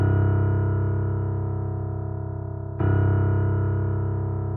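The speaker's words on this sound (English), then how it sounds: "Then we have the low keys, which is basically just a bunch of bass notes." A sustained low keyboard tone holds steady, then a fresh bass note is struck partway through and rings on; deep, continuous, with no talking.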